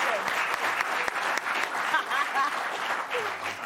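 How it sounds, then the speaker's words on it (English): Studio audience applause during a late-night comedy talk show, a dense burst of clapping that carries evenly for a few seconds with faint voices underneath. "applaud him"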